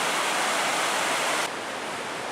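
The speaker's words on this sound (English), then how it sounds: "Wow, this is an awesome waterfall." A tiered waterfall at Gooseberry State Park gives a loud, steady, broad rush of falling water that fills the whole stretch without break, dropping slightly in level partway through.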